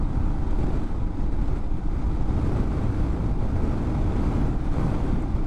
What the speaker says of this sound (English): Did I mention it's windy out here yet?